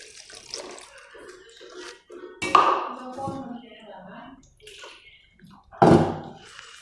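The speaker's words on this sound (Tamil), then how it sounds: "மிக்ஸ் பண்ணிவிட்டு ஹாட் வாட்டர் ஊற்றிக்கோங்க." Hot water is poured over makeup brushes and beauty blenders soaking in a cleaning mix, giving two short splashing bursts. Quieter handling sounds and low background murmur fill the space between them.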